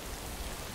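Steady rain falls throughout in the video game Death Stranding, a continuous, fairly soft wash of drops pattering on surfaces, with no talk over it.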